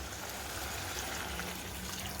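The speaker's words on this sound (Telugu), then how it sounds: "వాటర్ పోసుకోవాలి." Water poured into a pan of bhoti (tripe) curry with coconut, a soft steady trickling stream, close and fairly quiet, with no talk over it.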